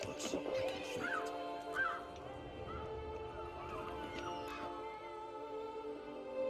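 Crows caw in Witcher 3: Blood and Wine, a few harsh calls near the start, around the first and second seconds, over a steady hum of in-game ambience and sustained music tones.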